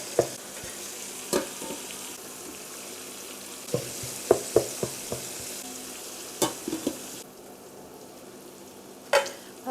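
Green and dry onions sizzle in a pan with a steady low frying hiss, broken by sharp scraping and clacking strokes as they are stirred, close and clear with no talking.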